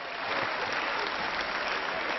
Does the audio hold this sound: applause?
yes